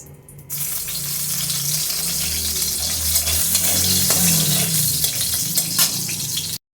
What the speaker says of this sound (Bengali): কড়াইতে দিয়ে দিলাম সর্ষের তেল, আর এখন শুকনো লঙ্কাগুলি দিয়ে দিচ্ছি।